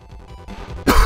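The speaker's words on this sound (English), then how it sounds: "Just coughing up my lungs here." A person coughs and clears their throat in a short, close burst that swells louder toward the end, with no speech over it.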